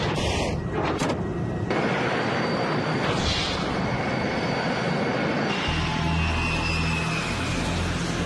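Steady, loud airliner engine roar as a plane takes off and climbs, a broad continuous rush with a low rumble that deepens near the end, no talk heard.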